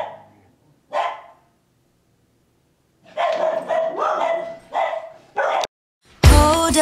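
Several dogs shut away indoors bark at movers arriving at the house, giving a few separate barks and then a longer run of barking in repeated bursts at close range, with no talk over them.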